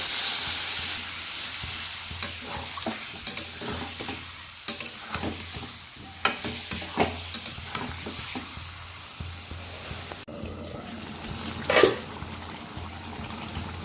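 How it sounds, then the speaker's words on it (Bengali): Chili powder and spices for a Bengali bhetki fish curry sizzle in a pan after a splash of water, with steady frying hiss and repeated close scrapes and taps of a spoon stirring the masala. "এখন একটু জল দিয়ে এটা ভালো করে একটু কষিয়ে নেব।"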